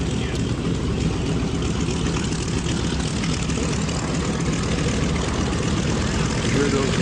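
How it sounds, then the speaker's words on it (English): A twin-engine radio-controlled model B-25 bomber drones overhead, its electric motors whining in a continuous steady hum at moderate distance, with people talking nearby. "Hear those motors whining away."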